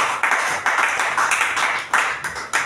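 A congregation claps in rapid, uneven bursts at a church service, the hand claps close and lively, with no voices over them.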